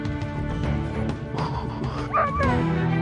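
Sled dogs waiting before a run bark, yip and whine excitedly, several close overlapping voices with a rising whimper near the end.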